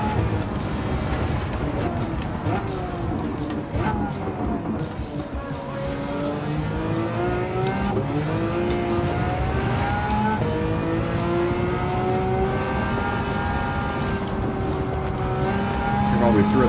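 Race car engine in Gran Turismo 7 revving through the gears, with rising and falling pitch sweeps, steady and loud under a voice talking throughout.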